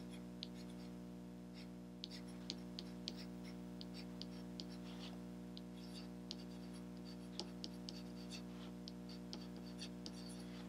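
A pen or pencil scratches shelf heights onto paper for a bookcase design, sounding as faint, irregular ticks and strokes over a steady low hum.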